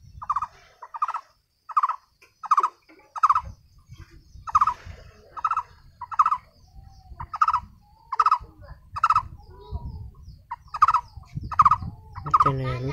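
A bird repeatedly calls in a steady series of rapid gobbling bursts, about a dozen evenly spaced calls, fairly loud and close, with a low rumbling background noise coming in partway through.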